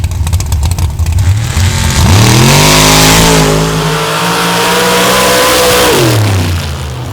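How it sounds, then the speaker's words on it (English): A Ford Bronco and a Jeep CJ launch hard off the line in a drag race, engines idling loudly before a sharp rise in revs into a sustained, roaring full-throttle pull that rises in pitch, then drops off near the end. "Ford Jeep battle on the starting line."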